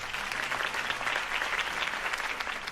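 Steady applause from a crowd in the Batman Telltale video game, dense clapping at moderate volume that continues throughout without pause.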